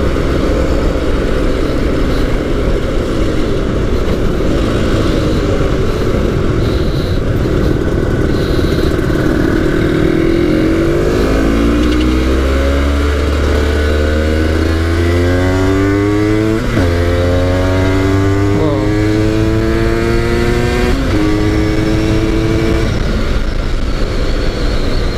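An Aprilia RS250 two-stroke 250cc motorcycle accelerates on the road, pitch climbing through several gear changes with repeated rising sweeps, loud and close throughout.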